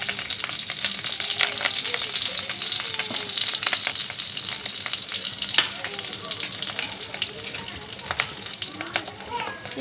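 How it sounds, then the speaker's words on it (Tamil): Hot oil sizzling steadily with crackling pops as fennel seeds fry for chicken fry, close up, with faint stirring and distant children's voices in the background. "இப்போ சோம்பு போட்டு தாளிக்கிறோம்."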